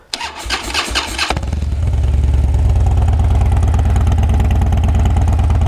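A Harley motorcycle cranks over briefly outdoors in the snow, then its engine catches and settles into a loud, steady, rumbling idle that continues unbroken.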